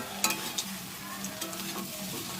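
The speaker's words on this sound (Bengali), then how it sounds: "ওগুলো সব কিছু দিয়ে ভালো করে মিশিয়ে নিচ্ছি" Fried eggplant, bitter gourd and lentil dumplings are stirred together in a sizzling pan for a Bengali shukto, with a steady fry hiss broken by several scraping clanks of the spatula and no voices.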